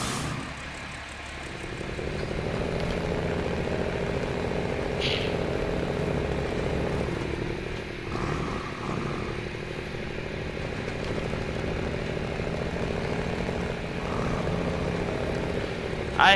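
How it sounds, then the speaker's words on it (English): A steady, loud Dodge D6500 truck engine drone in the video game SnowRunner runs throughout, a deep rumbling motor sound with slight shifts in pitch, with no talking over it. "I hate that this engine sounds so cool in such a slow, fucking underpowered truck"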